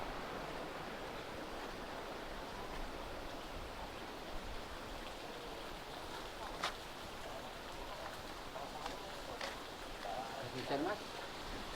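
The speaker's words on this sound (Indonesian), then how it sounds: "Nah, itu dia air terjunnya." Water rushes at the Madakaripura waterfall, a steady broadband roar heard at a distance, with a few faint voices and footsteps nearby.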